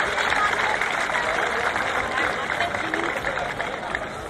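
A crowd at the Arnold Classic 2018 in Canada applauds an athlete: dense, steady clapping mixed with crowd murmur, sustained and fairly loud for the whole stretch.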